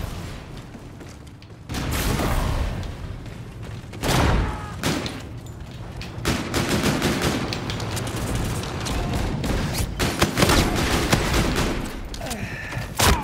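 Gunfire in the video game Call of Duty Infinite Warfare comes as loud bursts and repeated shots over a constant battle din, with several heavy impacts spaced across the stretch.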